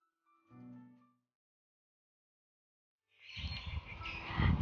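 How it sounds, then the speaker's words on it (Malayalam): Birds call near a family temple set among sacred groves, with one short warbling song that fades into silence, then a louder burst of rustling, chirpy noise. "കിളികളുടെ സൗണ്ടൊക്കെ ആയിട്ട് ഒരുപാട് തരം കിളികളുണ്ട് ഇവിടെ."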